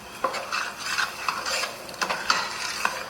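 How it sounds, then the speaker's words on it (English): A spatula works steadily through a roux for seafood gumbo, giving a close, continuous scraping and rasping with soft regular strokes and faint sizzle, no voices. "To show you on this roux, you have to keep stirring it."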